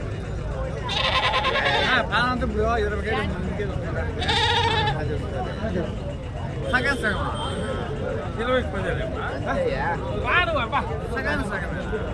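Rams bleat again and again at a busy weekly Saturday ram market in Nellore, their calls rising over steady crowd chatter and nearby talk.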